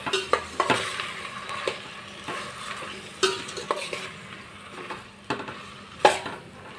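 Cucumber pieces with salt stirred in a pan, irregular metal spatula knocks and scrapes against the pan over a soft, steady sizzle, close and with no talking.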